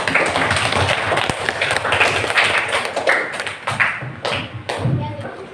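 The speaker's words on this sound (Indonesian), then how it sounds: "Kita beri tepuk tangan untuk kita semua." Group of students clapping together in a classroom after group presentations, a dense steady patter of many hands that stays loud throughout and mixes with some voices.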